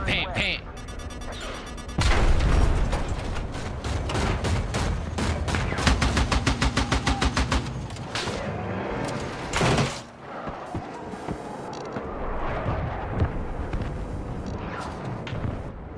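Loud, dense gunfire rattles in rapid rhythmic bursts, mixed with heavy missile explosions and crashes, while voices sound underneath.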